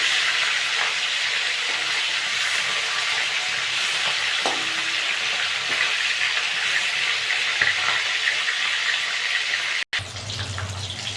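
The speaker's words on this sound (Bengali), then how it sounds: "উল্টে পাল্টে ভালো করে ভেজে দেবো।" Silver calf fish sizzle steadily in hot mustard oil after being flipped, a dense close crackle running throughout, broken near the end by a brief sharp clatter before the frying resumes.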